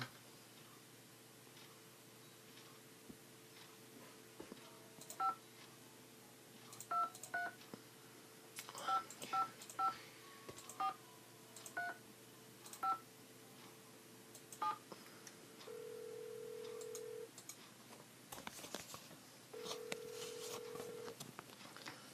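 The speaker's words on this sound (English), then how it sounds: "Now let's call Ned first." Touch-tone phone dialing in the Nancy Drew game The White Wolf of Icicle Creek, a string of short DTMF beeps in irregular bursts, followed by two longer ringback tones near the end.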